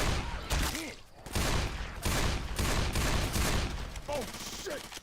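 Shotgun blasts in the Left 4 Dead 2 zombie shooter, played on realism, crack out in a rapid fusillade of loud bursts with brief gaps, mixed with game effects and distant shouts.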